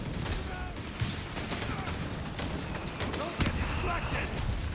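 Mortar and gunfire from a World War II battle in Company of Heroes 3, distant thuds and scattered bursts of shots under steady talk.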